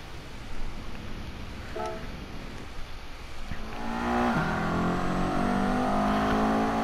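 A 1997 Toyota MR2 mid-engine sports car in a video game idles low, then swells into a higher, steady rising drone as it accelerates, moderately loud with no voices.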